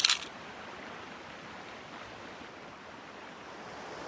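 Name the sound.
camera shutter at fast shutter speed near rapids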